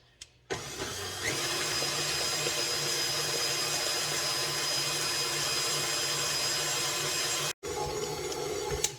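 A stand mixer runs steadily on high while kneading bread dough for pan de muertos. Its continuous motor hum and rhythmic churning sit close and fairly loud, cutting out briefly near the end before resuming.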